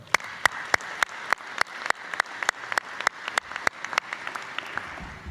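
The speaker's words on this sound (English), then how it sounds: "So round of applause for Beth." Audience applause at a chamber of commerce luncheon in Indiana County, a steady wash of many hands clapping, with sharp, regular claps from one nearby clapper standing out above the rest, sustained throughout.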